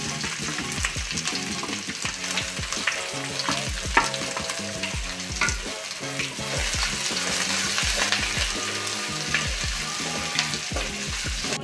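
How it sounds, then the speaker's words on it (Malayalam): Chopped banana flower stir-fries in a pan with mustard seeds for a Kerala-style thoran, with a constant sizzle and rapid, repeated spatula scraping and tossing throughout. "ഇതിലേക്ക് വൃത്തിയാക്കി വെച്ചേക്കുന്ന വാഴക്കൂമ്പ് അരിഞ്ഞത് ഇട്ട് കൊടുക്കാം."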